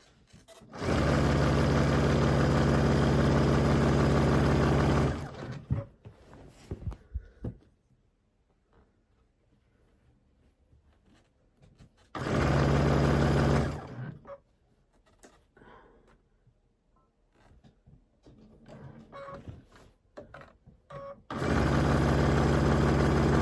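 A sewing machine stitches binding onto a quilt made with its own backing fabric, running in three steady, loud, humming bursts of several seconds each, separated by quieter stretches of handling and faint rustles.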